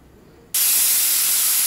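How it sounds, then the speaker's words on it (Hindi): A pressure cooker cooking a green dried pea curry suddenly lets out a loud, continuous hissing blast of steam that starts abruptly after a quiet moment and holds steady. "कुकर में अब अच्छे से सीटी आ रही है।"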